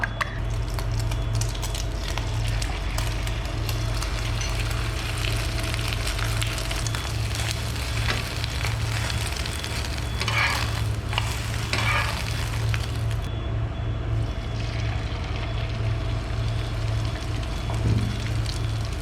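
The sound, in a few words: beaten eggs with black pepper frying in hot oil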